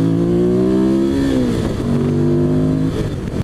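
A 2005 Ducati 800 SuperSport motorcycle engine accelerating hard, loud and close, its revs climbing through a gear, dropping briefly at a shift, then rising again.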